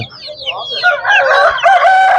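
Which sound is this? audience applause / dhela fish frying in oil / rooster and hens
rooster and hens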